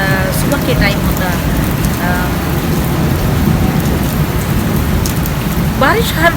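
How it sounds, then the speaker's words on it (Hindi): Heavy rain pours steadily onto surfaces in a village during a storm, a dense continuous roar with low rumbling beneath, while people talk intermittently over it. "बारिश हर टाइम रात को क्यों होती है"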